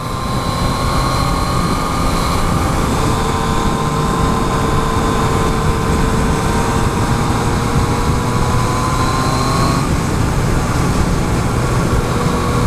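Engine of a 2016 Yamaha FZ-09 motorcycle pulling hard in fourth gear, a loud continuous roar with rising whining tones, heavily buffeted by wind rush and steady for the whole stretch.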